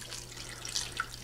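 Liquid poured over pears during home supper prep, a faint, brief trickling splash close by, heard alone without talk.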